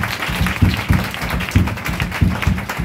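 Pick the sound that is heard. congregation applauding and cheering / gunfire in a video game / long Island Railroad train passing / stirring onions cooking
congregation applauding and cheering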